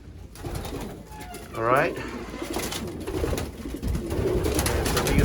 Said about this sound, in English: So these are all the young birds